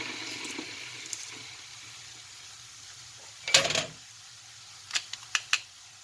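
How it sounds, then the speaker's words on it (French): Water heats in an electric kettle in a home kitchen during cooking: a faint steady hiss, a brief louder rush midway, then several sharp light ticks, all fairly quiet. "Entre temps, je fais chauffer un peu d'eau dans ma bouilloire, c'est le bruit que vous entendez."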